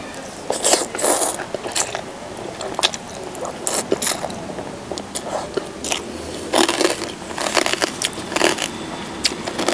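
Crispy pork cracklings are bitten and chewed close to the mouth during a Thai Isan meal of rice noodles with fermented fish sauce. Irregular crunches and crackles repeat throughout, loud and near.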